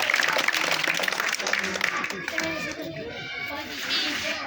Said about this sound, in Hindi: तालियां बजा दो, बाबू के नाम की तालियां बजा देते हैं